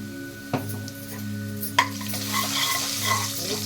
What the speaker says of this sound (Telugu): ఈ హాఫ్ బాయిల్ చేసిన పొట్లకాయ ముక్కలు వేయాలి. బాగా కలుపుకోవాలి.